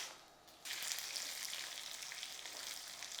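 Dried red chilies, chana dal, cumin, coriander seeds and garlic dropped into hot oil, bursting into a loud, steady close sizzle after a brief quiet moment.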